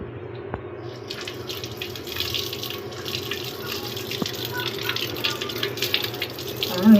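Tamarind being washed under running tap water: a steady splashing stream into a sink close by, with scattered clinks and a brief voice near the end.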